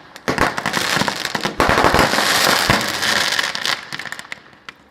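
Fireworks and firecrackers at a bonfire night gathering, with rapid overlapping bangs and crackles merging into a sustained loud barrage before trailing off into scattered pops.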